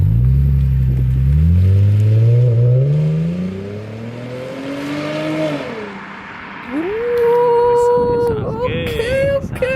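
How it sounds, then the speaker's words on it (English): A Lexus IS250 fitted with an HKS Hi Power exhaust drones and revs at low RPM, a loud, deep engine note rising and falling up close, with people talking over it toward the end. "the low RPM sound nice"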